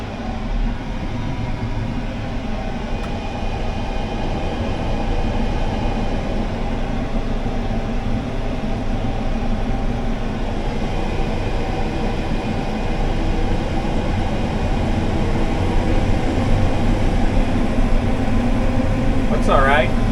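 Steady, continuous mechanical drone of a combine harvester running with its header engaged, moderately loud and unchanging throughout, with a brief squeak near the end.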